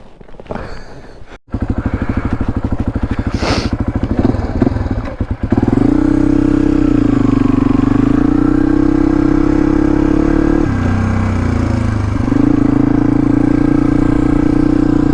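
A Suzuki DR250S motorcycle starts up and settles into a loud, close single-cylinder idle, with the engine note rising and falling through a couple of throttle blips; clatter and handling noises come before it catches.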